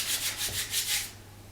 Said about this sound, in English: I'm gonna clean my hands real quick